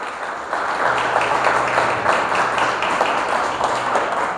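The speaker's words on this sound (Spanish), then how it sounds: "Dale un fuerte aplauso al Señor." A church congregation claps loudly together in a dense, continuous round of applause that swells after a moment and holds steady, with no talking over it.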